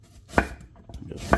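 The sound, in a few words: chopping food with a knife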